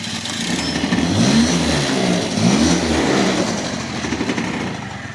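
A small scooter engine runs and revs, rising and falling in two swells over a steady idle, close and loud with no talking.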